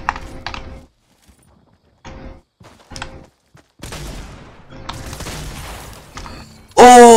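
Shotgun blasts in Fortnite going off in a few sharp bursts with quiet gaps between, mixed with clicking game mechanics and a loud burst of effects at the end.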